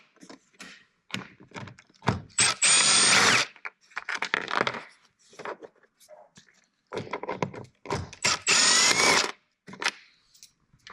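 A power drill backs out T40 bolts from the dash of a Ranger 1500 side-by-side, running in several short whirring bursts with pauses and clunks between them, close and fairly loud.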